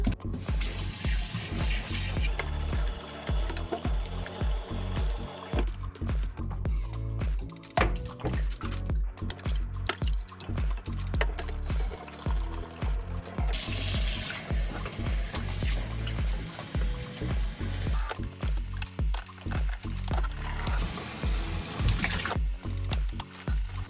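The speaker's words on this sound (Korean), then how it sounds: "한 세 번 정도 헹궈 주시면 됩니다" Running tap water splashes steadily into a sink while maesaeng-i seaweed is rinsed by hand, with irregular sloshing and clattering near the microphone and short pauses between rinses; no one speaks.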